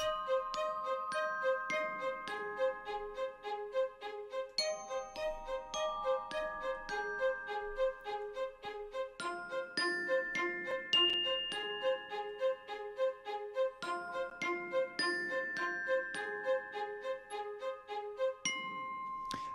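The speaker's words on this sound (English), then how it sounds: "So you can hear the Glock pretty obviously." Bright, bell-like metallic glockenspiel tones ring out in a steady melodic pattern over softer sustained orchestral accompaniment, clear and close with no talking.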